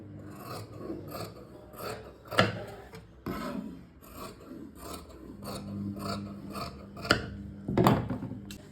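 Fabric being cut with scissors for a frock, a steady rasping, rubbing snip-and-slide sound with several sharper crunches of the blades, close by and without talk.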